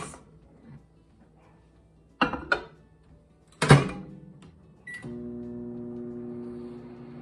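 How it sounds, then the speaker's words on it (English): A couple of sharp clunks and a beep, then a steady low electric hum with a faint whir from a microwave oven heating cream cheese, running on without a break. "And then we're going to microwave that for 3 minutes."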